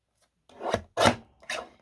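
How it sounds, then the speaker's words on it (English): Paper edge being trimmed off in three short rasping strokes, close and distinct with brief silences between them and no talking. "And then let me trim this edge off."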